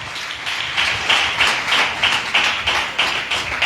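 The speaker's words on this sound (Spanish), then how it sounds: "dale un aplauso al Señor" A church congregation claps in a steady rhythmic beat during a worship service, the applause loud and continuous with faint voices underneath.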